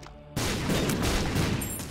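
Rapid, overlapping explosions from The Binding of Isaac: Rebirth burst in suddenly after a quiet moment and keep up a loud, continuous barrage of booms until the end.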